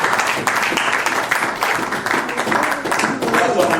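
A church congregation applauding the Lord, a dense, lively burst of clapping from many hands sustained throughout, loud and close, with voices mixed in.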